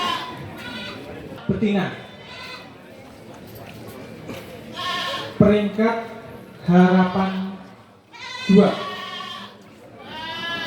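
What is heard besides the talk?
goats bleating at a goat contest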